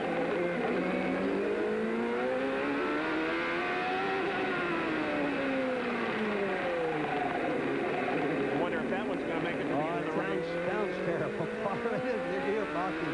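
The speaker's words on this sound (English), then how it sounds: "Listen to Michael's gearbox." Michael Andretti's CART race car at the 1995 Surfers Paradise street race, its engine and gearbox droning and rising and falling in pitch through shifts for the whole stretch, with other cars and commentary layered over the steady roar.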